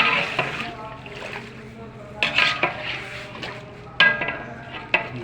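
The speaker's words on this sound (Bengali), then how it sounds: "মশলা দিতেছে, আমি নাড়া দিতেছি" Mutton curry with spices being stirred in a pot on a stove, with scraping and clattering bursts at irregular intervals over a low background, and a voice talking quietly underneath.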